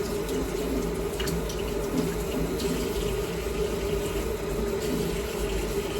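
Tap water runs in a steady, loud, unbroken stream into a kitchen sink while bagel dough is being made, with no voices over it.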